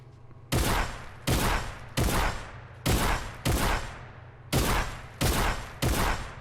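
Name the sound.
gunfire shooting orbs in Fortnite aim training map video game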